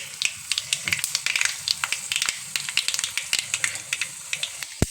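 A tempering of asafoetida, mustard seeds, dry red chillies and curry leaves fries in hot oil, loud close sizzling with rapid popping crackles and sputters throughout, ending in a sharp knock.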